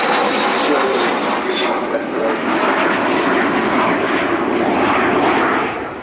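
Avro Vulcan XH558 delta-wing jet bomber flying a display at the RIAT 2013 airshow, a loud continuous roar of jet engines filling the scene throughout.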